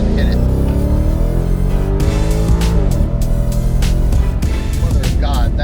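An S550 Ford Mustang pulling hard in second gear, the loud engine note rising steadily, with tire noise and a voice talking over it.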